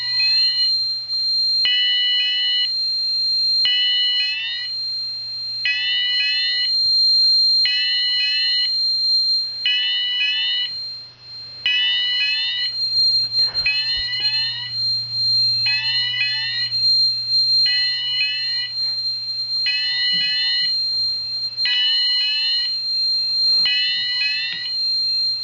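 An MX4100 fire panel in alarm drives a sounder through a steady run of repeating two-tone electronic pulses, about a dozen evenly spaced bursts, loud and close over a low mains hum.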